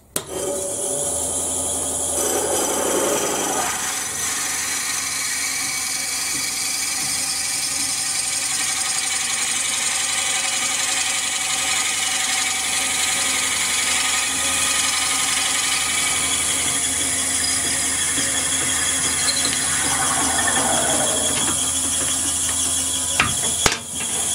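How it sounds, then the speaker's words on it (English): A steady whirring drill boring a hole through a pen blank, a continuous rasping hum with a brief change in pitch near the start and end. "I'm going to drill that hole out now"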